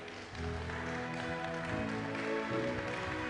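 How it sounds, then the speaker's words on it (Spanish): Applause from a church audience swells in after a brief pause and carries on steadily, fairly soft and mixed with faint voices and some musical tones underneath. "Denle un aplauso a Jesucristo."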